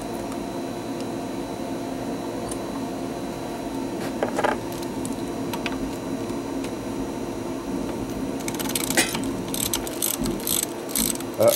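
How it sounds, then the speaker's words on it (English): A ratcheting screwdriver clicks in quick, uneven bursts close by, with the busiest stretch of sharp mechanical ticking near the end over a steady low background hum. "Need a screwdriver."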